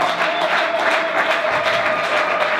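A church congregation applauding and cheering at a gospel service in Brussels, a dense, steady wash of clapping from a crowd filling the room.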